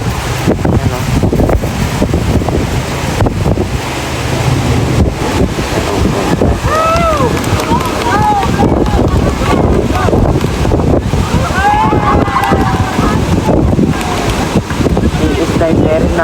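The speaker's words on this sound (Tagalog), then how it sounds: "Malakas ang hangin, grabe. Lakas po ng hangin." Strong wind buffets the microphone outdoors, making loud, continuous rough rumbling and gusty roaring, with a person talking faintly underneath.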